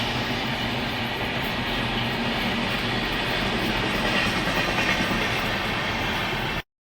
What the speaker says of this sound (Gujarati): જો ટ્રેન નીકળી રહી છે